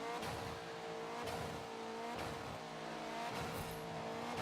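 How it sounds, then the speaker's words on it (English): Honda Civic pulling away at the start of a Forza 7 race, engine revving loud and close through repeated gear-change cycles, pitch climbing then dropping several times, with faint tire squeal and no talk. "Still in my Honda Civic. Pulling away nicely."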